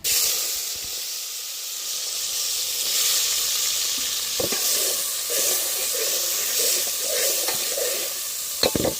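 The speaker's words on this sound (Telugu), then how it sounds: "ఆయిల్ అయితే వేడింది కదా ఉల్లిపాయ పచ్చిమిర్చి టమాటా వేసుకుందాం" Onion, green chilli and tomato dropped into hot oil give a loud, continuous hissing sizzle with scattered pops and spatters, close and steady, without talk.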